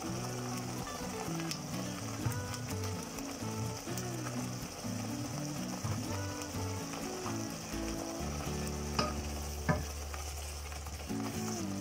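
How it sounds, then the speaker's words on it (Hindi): Tomatoes frying in a pan for Punjabi chole give a soft continuous sizzle, with low tonal hum and music-like tones layered underneath and a few sharp utensil clicks. "थोड़ा सा ये पक जाए टमाटर"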